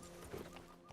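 Horse hooves clop briefly beneath a soft whinny-like tone from a horse in the Western video game Red Dead Redemption 2, close and moderately loud over a steady background bed.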